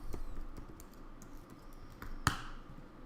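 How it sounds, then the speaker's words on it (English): Keyboard typing in a quiet room during a late-night livestream, a run of soft, quick key clicks with one sharper tap near the end. "Here, I'll type it in the chat."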